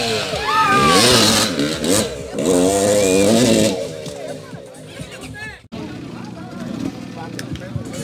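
An enduro motorcycle at a competition in Limoeiro do Norte revs and accelerates hard, its rising and falling engine tones loud and close for the first few seconds before fading into a more distant drone, with crowd babble and a commentator talking throughout.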